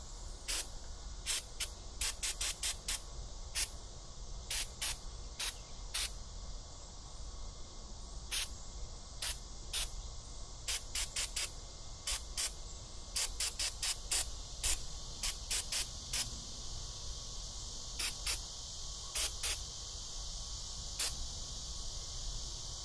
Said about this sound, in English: some carb cleaner, spray that all down, get it all clean